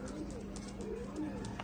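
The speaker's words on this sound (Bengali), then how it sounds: "অনেক চটপটে কবুতর আপনারা ভিডিওতেই লক্ষ্য করতেছেন গাইস" Pakistani pigeons, a lively red-eyed pair, coo softly and repeatedly in a loft, the low murmuring calls steady beneath faint ambient noise and occasional light chirps.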